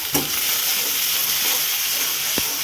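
Ginger paste sizzles in a hot pan, a steady bright frying hiss with a couple of sharp clicks and stirring scrapes, no voices over it.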